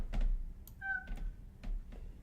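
A cat gives a single short, clear meow in a quiet room, set among a few soft knocks and light thuds nearby.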